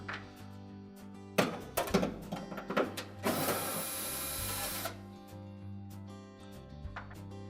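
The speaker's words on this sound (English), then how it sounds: "They're held in place with 1/4 inch screw on either one. So just remove the screws." Quarter-inch screws being backed out of the side brackets inside a Whirlpool refrigerator, heard as a few close clattering mechanical bursts and one longer steady whirring stretch of a driver, then quieter ticks.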